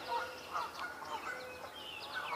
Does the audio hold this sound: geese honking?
yes